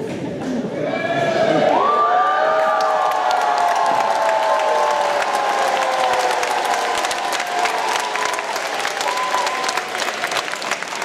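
Graduation crowd of students and parents at a secondary school ceremony screaming, cheering and applauding, a loud sustained roar of whoops and dense clapping that swells early and stays full throughout.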